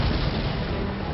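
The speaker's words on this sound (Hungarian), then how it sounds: "Az akna alaposan megrázta a 70 tonnás tankot." A land mine blowing up beneath a 70-ton tank in a desert battle, a dense, loud, continuous low roar of blast and rumble with no quiet gaps, filling the whole moment.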